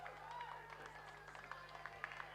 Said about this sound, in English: in the grandstand now, you could give them all a great round of applause